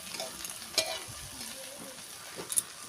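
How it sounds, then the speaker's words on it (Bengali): Soft sizzling of eggs frying in oil on a clay stove, with a few light clinks and scrapes of a utensil against the pan. "আবারও একটু তেল দিয়ে নরম করে ভাজা করে নেব"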